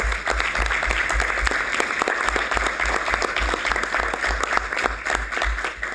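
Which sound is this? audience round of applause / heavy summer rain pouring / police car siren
audience round of applause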